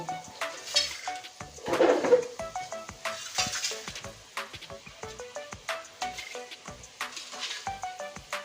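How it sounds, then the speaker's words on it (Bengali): Onions are chopped with a knife in a home kitchen, a run of quick, uneven taps with light metallic clinks, close and fairly quiet. "প্রথমে পেঁয়াজটা কুচিয়ে নিচ্ছি"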